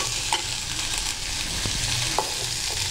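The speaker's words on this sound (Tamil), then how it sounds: "அதனால தான் முதல்ல தனியை வதக்கி எடுத்துக்கோங்க" Pirandai (adamant creeper) sautéing in a pan, a close steady sizzle with light scraping stirs throughout, no voices.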